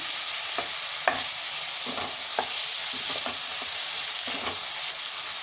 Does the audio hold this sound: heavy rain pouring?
no